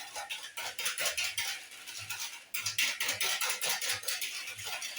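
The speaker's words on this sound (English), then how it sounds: "Make sure that the sugar and the eggs are thoroughly mixed." Sugar and eggs mixed by hand in a bowl for a blueberry-vanilla cake, a steady close scraping whisk with rapid regular strokes and soft rhythmic knocks against the bowl, briefly pausing midway.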